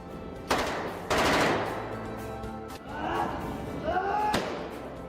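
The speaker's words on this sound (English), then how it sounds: "The Thompson, the Tommy gun, this is the most iconic kind of weapon of that era." A Thompson submachine gun fires in a film scene, with loud rapid bursts and heavy thuds ringing out over several seconds, mixed with voices and score.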